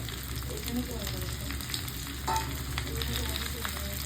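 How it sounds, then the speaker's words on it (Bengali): Mixed vegetables, raw green banana and bitter gourd fry in a pan for a Bengali shukto, a close, steady sizzle and crackle with soft scraping of stirring, no talk. "উচ্ছে ভাজা হয়ে গেলে এবার সমস্ত সবজিগুলো আবার দিয়ে দিলাম, তার সাথে দিলাম কাঁচকলা"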